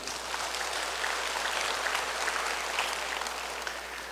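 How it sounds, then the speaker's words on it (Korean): An audience at a national Catholic Cenacolo retreat lecture claps steadily, a dense, even patter of many hands heard from some distance with no voices over it. "박수를 쳐드립니다."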